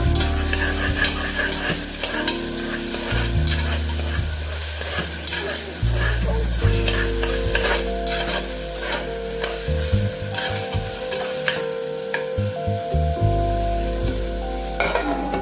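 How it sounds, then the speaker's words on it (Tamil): Tomatoes for a chicken curry sauté in a hot pan with a loud, continuous sizzle and frequent stirring scrapes. A low tonal hum runs underneath, and nobody speaks. "தக்காளி போட்டு நல்லா வதக்கணும்."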